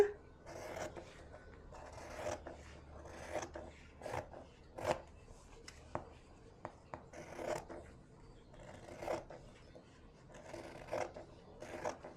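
Scissors cut through fabric pieces for a patchwork scrunchie, giving soft, close, irregular snipping and rustling strokes that repeat quietly throughout.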